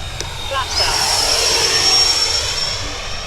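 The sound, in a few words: FMS Su-27 Flanker twin 70mm EDF RC jet flying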